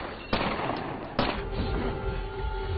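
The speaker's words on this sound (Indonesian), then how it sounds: "Mason berhasil melindungi Jack dari tembakan Lisa." Two sharp gunshots ring out about a second apart over a steady background rumble, the second followed by a brief echoing tail.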